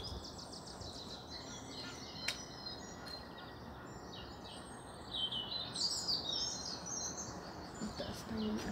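Birds chirp and call against a steady outdoor hiss where a pigeon is nearby, the high calls growing busier and more layered toward the end.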